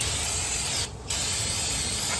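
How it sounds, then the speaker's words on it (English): Brake parts cleaner sprayed from an aerosol can onto a classic car engine in its engine bay: a steady, close, continuous spray hiss lasting about two seconds with one brief pause in the middle. "we're going to use a little bit of brake parts cleaner, is what I prefer to use"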